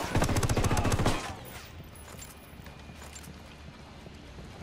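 Gunfire in the video game Ghost Recon, a rapid burst of repeated shots for about a second, then quieter background game ambience.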